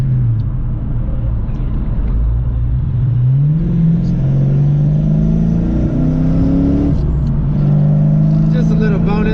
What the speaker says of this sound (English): Just a little bonus, a little half throttle action.